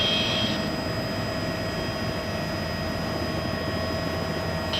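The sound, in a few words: helicopter taking off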